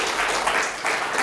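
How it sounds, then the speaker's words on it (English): A conference audience gives loud, dense applause after a talk on building ARCore apps with Unity, a brief, steady burst with no voices over it. "Round of applause, please."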